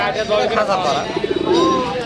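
Pigeons coo at a busy pigeon market in Rajshahi, low throaty warbling calls heard close up beneath the babble of nearby voices.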